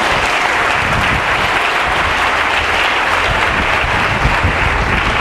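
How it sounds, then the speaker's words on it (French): A church congregation at a Sunday service applauds loudly and continuously, a dense wash of many clapping hands close by that holds steady throughout. "Ça s'acclame."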